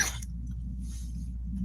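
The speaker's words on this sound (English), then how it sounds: "That cough was harsh" A single harsh cough bursts out close and loud right at the start. A low, quiet indoor hum follows, with no speech.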